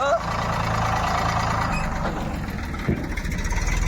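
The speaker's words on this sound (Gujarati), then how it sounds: "જયપાલભાઈ જાય ટ્રેક્ટર લઈને" A tractor engine rumbles low and steady as it pulls away on a farm during groundnut fodder loading, with people talking over the engine noise throughout.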